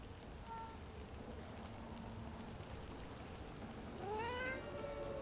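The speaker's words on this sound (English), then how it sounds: "Still think the cat has answers?" A cat in Dragon Age: The Veilguard gives one rising meow near the end, heard over a soft, rain-like ambient hiss at low volume.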